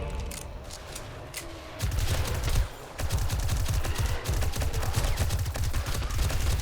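Rapid gunfire from the 7 Days to Die game, aiming down the sights, with loud repeated shots forming a dense, steady burst that runs through most of the clip without speech.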